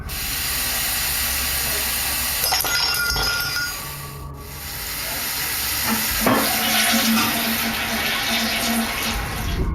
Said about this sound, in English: This is followed by the toilet flushing, and what sounds like the lid slamming shut.